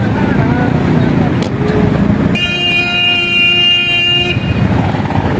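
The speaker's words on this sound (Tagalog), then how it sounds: "Busina na." Traffic rumbles while a car horn blares in one sustained honk lasting about two seconds, loud and close, with a couple of brief toots before it.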